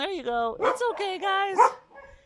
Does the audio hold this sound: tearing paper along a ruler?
no